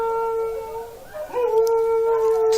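Pet dogs howl together in long, sustained, wavering tones that bend in pitch partway through, close and fairly loud over a quiet room.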